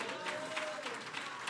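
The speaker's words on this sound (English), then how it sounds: "Clap your hands for Miles." Audience clapping at a community partnership breakfast in Bronzeville, a steady even wash of applause filling the room without letup, with faint voices mixed in.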